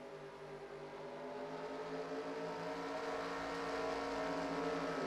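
Race cars at a 2021 IOMA Halloween Havoc event restart at the green flag on lap 7, their engines droning with layered tones that swell gradually as the pack accelerates, fairly distant and low in level.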